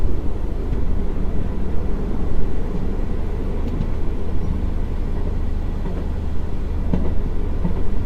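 A passenger train on the India–Nepal international line, running at about 100 km/h near Inarwa station: a steady loud rumble of wheels on rail with faint rhythmic clicks, heard from inside the coach.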